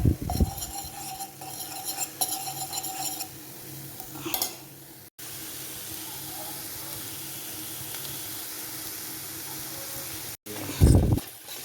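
Moringa leaf curry with egg and pepper being stirred in a pot, a utensil clattering and scraping against the metal in short bursts, with a soft steady sizzle underneath and a louder scrape near the end.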